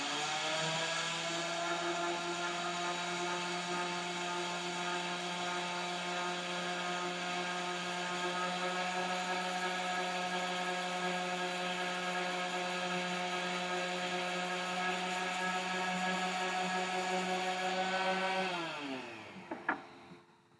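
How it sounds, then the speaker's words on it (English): Power tool sanding wood runs as a steady, continuous mechanical whine with strong tonal hum, holding level for about eighteen seconds before spinning down and stopping, with no talking. "Let's try and sand this down."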